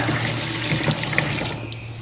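Warm water runs steadily from a tap into a sink to soak mugs, close and continuous, with a low hum beneath and small clinks near the middle.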